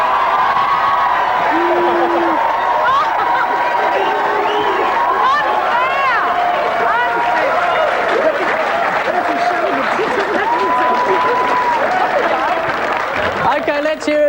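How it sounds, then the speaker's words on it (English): A television panel-show studio audience claps, whoops and cheers, a dense sustained crowd roar with shouts rising above it throughout. "Please, with a round of applause, cheers and jeers."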